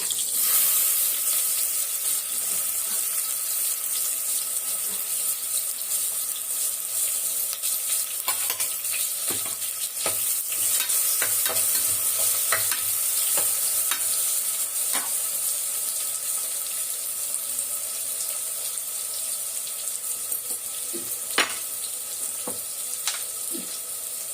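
Sliced small shallot onions sautéing in a pan for mutton head curry, a continuous close sizzle with frequent stirring clicks and scrapes of the utensil against the pan, no voices.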